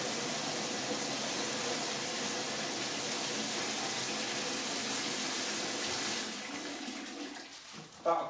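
Water pours steadily into a container while making briquettes, a continuous rushing splash that holds for about six seconds, then tapers off with small clunks and a final knock.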